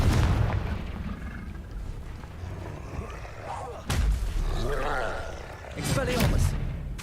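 Fiery Confringo blast spells exploding in Hogwarts Legacy, with booming impacts near 4 and 6 seconds over a continuous rumble of combat.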